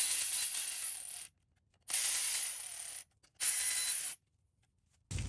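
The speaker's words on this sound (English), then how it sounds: "Use the 5mm Allen just to snug things up." A 5mm Allen key snugs the cover bolts on a 2012-2015 Yamaha WR450F dirt bike, giving three bursts of close, bright metallic ratcheting separated by short pauses, with no talk.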